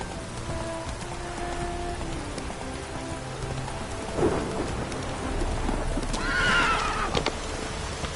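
Roach the horse gallops through heavy rain in The Witcher 3, with steady rain and rumbling thunder throughout and a clear neigh rising near the end, no voices.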